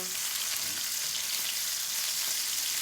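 Chicken cutlets fry in a little oil, giving a steady, close, even sizzle that hisses without letup and carries no talk.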